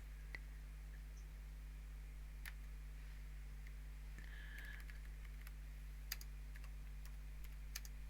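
Quiet typing on a computer keyboard, scattered light clicks and taps at irregular intervals over a steady low electrical hum.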